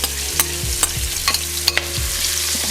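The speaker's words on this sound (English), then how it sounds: "So I'm gonna go ahead and throw these onions in there." Onions sizzle in oil in a pan as they are stirred, a steady close fry with a few sharp scraping clicks of the utensil against the pan.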